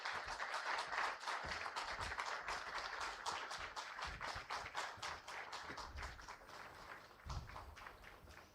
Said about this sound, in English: Let's welcome Sir with a big round of applause.